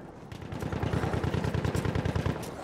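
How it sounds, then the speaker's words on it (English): Battlefield 1 gameplay with a close, loud burst of rapid automatic gunfire. The shots come in a fast, even rhythm for about two seconds and then fade, with no talk. "I felt like someone was shooting at me."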